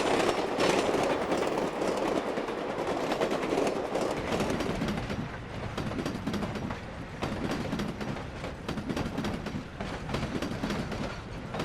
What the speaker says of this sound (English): A Sioux Line freight crosses once number 9 has cleared the interlocking.